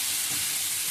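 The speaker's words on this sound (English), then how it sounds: "Oh, they're sizzling already." Food sizzles inside a Ninja Foodi Max Health Grill and Air Fryer, a steady, close, broadband crackle and hiss lasting the full second, with no voices.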